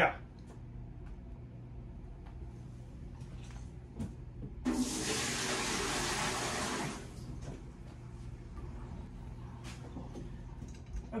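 Water flushing through a newly installed water filter: a sudden loud hissing rush that starts midway, holds for about two seconds, then stops, with quieter background noise and faint clicks before and after.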